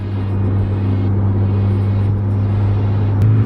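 A turbocharged Mazda Miata cruises at highway speed, its engine droning loud and steady with a strong low hum and road rumble throughout, close and unbroken, no voices.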